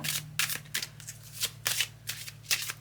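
Cards being shuffled in quick riffling bursts, several rapid flurries separated by brief pauses, close and crisp over a faint low hum.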